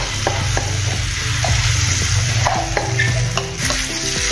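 Ground chana dal sizzles in hot oil with cumin and asafoetida as a spoon stirs it, a dense steady frying hiss with repeated scraping clicks of the utensil against the pan, close and loud.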